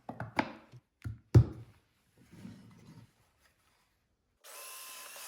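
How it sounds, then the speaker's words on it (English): A few wooden knocks and handling thuds, then a short, steady whir of a power drill starting near the end, drilling screw holes in wood. "I like drilling through the face or through the front into the bottom"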